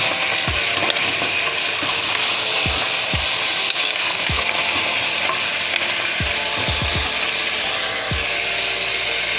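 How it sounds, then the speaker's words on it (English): Jamaican cow foot bones browning in a pot, a steady loud sizzle with repeated knocking thuds as the bones are stirred and shifted against the pot. "I'm browning up a little. You hear the bones?"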